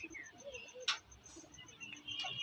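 Andhra pigeons kept at home coo softly in faint, low murmurs, mixed with a few light chirps and small rustling sounds nearby.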